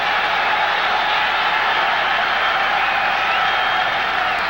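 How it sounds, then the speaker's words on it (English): Steady roar of a large Cincinnati Bengals stadium crowd at a 1980 football game against the Oilers, continuous and even, a dense wash of voices with no breaks. "And the Cincinnati crowd urging their Bengals on."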